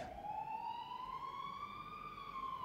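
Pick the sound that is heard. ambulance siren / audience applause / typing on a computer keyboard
ambulance siren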